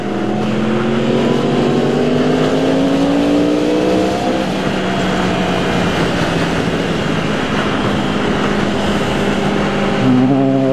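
Road traffic streams past steadily, a loud continuous roar of tyres and engines with passing vehicles rising and falling in pitch, no voices heard.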